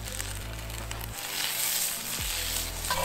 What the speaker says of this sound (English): Okay, we're gonna put our onions in now.